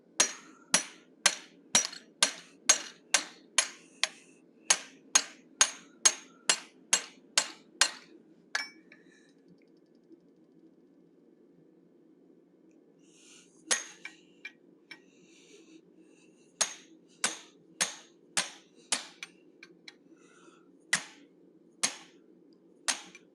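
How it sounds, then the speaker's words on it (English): Regular metallic hammer blows ring out on a quarter-inch fuller as an animal head is forged, in two quick runs of evenly spaced strikes separated by a quiet pause and a few scattered hits. "I'm using approximately a 1/4 inch fuller, placed at the bridge of the snout, half above, half below"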